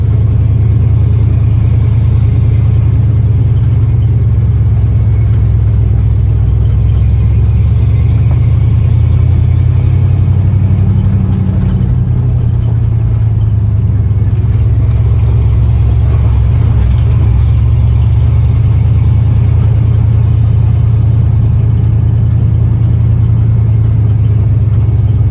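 A four-wheel drive vehicle in low range grinds up a muddy hill, its engine a loud, close, steady low rumble that swells slightly midway, heard without talk.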